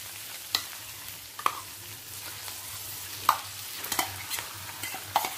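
Marinated chicken fries with onion and tomato, giving a soft, steady sizzle broken by several sharp scraping and clattering stirs of a spatula against the pan. No one speaks.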